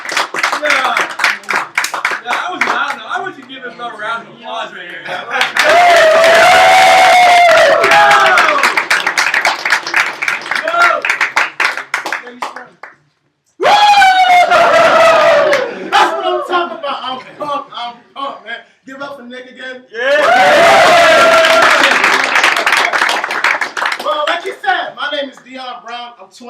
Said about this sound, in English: I want you to give him another round of applause right here.